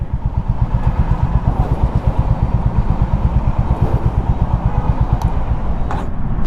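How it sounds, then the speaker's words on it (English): A Honda H'ness CB350 motorcycle idling close by, its exhaust thumping in a fast, steady low rumble with a faint mechanical clatter on top. "let's hear the exhaust sound again"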